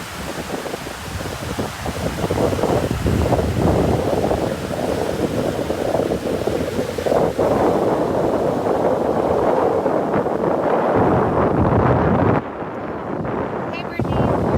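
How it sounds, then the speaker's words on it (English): Strong wind gusting over Lake Erie at night, a loud continuous roar and buffeting across the microphone, with a voice talking over it in places. "It's a little crazy with the wind tonight"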